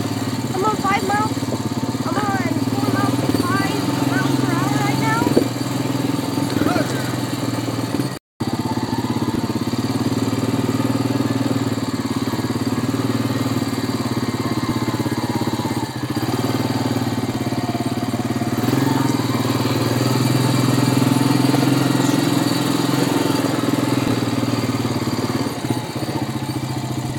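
An ATV engine runs steadily and loudly throughout while being driven, a continuous mid-pitched drone with slight rises in revs and a brief dropout partway through.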